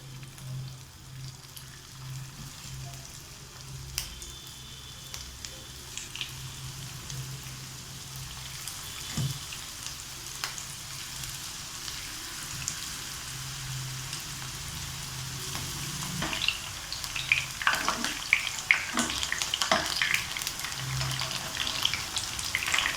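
Mushrooms deep-fry in hot oil for a roadside-style masala, a steady low sizzle and crackle that grows busier and louder with sharp pops toward the end.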